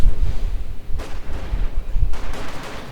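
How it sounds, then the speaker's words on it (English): Light machine guns and rifles fire in a Company of Heroes 2 battle, loud rumbling bursts with sharper cracks around one and two seconds, heavy and continuous, without voices. "light machine gun fire going to open up"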